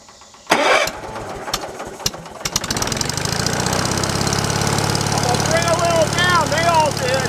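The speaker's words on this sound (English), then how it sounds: "I'm hoping the old splitter will cooperate. It sounds like it's making noise like it wants to cooperate." An old log splitter's small engine cranks with a few sharp knocks, then catches and settles into a steady, loud mid-pitched running drone close by, with a voice speaking over it.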